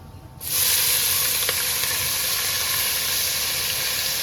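Chopped onion and green chili dropped into hot oil already seasoned with a pinch of asafoetida, bursting into a loud, close sizzle that starts abruptly and then holds as a steady, bright hiss.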